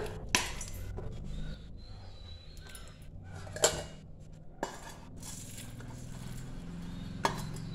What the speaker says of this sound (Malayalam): ഇത് നമുക്കൊരു മിക്സി ബൗളിലേക്ക് ഇട്ട് കൊടുക്കാം.